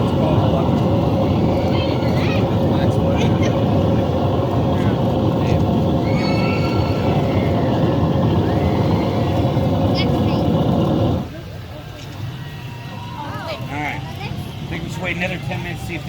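Space shuttle launch effect at an Orlando attraction: a loud, dense, steady roar of engine rumble runs for about eleven seconds, then cuts to a quieter crowd and room ambience with faint voices.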